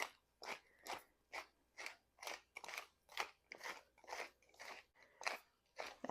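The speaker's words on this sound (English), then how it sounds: "cracked black pepper" A pepper mill cracks black pepper, giving about a dozen crisp, crunchy grinding twists in an even rhythm, close and clear with quiet pauses between them and no talk.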